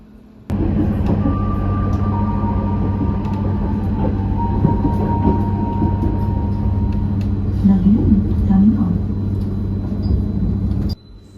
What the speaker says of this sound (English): let's hop on this incoming train and head to our next stop